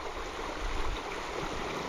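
A small stream trickles steadily where a waterfall used to run, after the water level dropped at a summer night fishing spot for tench. The flow is close and continuous, with no talk.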